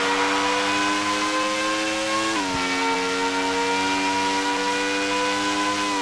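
A Formula 1 car in the F1 World Grand Prix 2000 game screams at high revs, with a loud, steady whine that drops abruptly at a gear change and then climbs again, and no voices over it.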